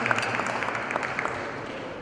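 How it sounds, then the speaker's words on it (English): Audience applause for a speaker at a Hispanic Heritage breakfast event, a steady dense clapping that fills the whole two seconds at moderate level with no clear voices over it. "Let's give Ms. Sosa another round of applause, please."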